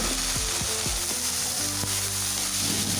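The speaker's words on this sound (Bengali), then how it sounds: "অল্প আঁচে মটরগুলি এখন হালকা একটু ভেজে নেব।" Green peas frying gently over low heat with spices in a pan make a continuous sizzle, with ratcheting, clicking stirring noises layered over it throughout.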